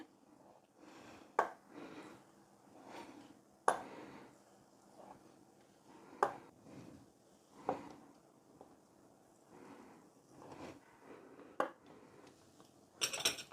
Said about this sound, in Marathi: आपल्याला चौकोनी आकारामध्ये शंकरपाळी कट करून घ्यायची आहे